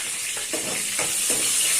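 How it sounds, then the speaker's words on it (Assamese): Dried onions fry in hot oil for sambar, a continuous close sizzle and hiss with soft rhythmic stirring strokes through the pan. "পিঁয়াজখিনি গোল্ডেন ব্ৰাউন হোৱালৈকে আমি অকণমান ভাজি থাকিম"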